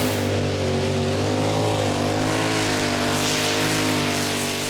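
A pulling tractor's engine roars at full throttle during a tractor pulling championship run in Herning, Denmark, a loud, steady, sustained drone with strong harmonics that holds unbroken for several seconds, with no talk over it.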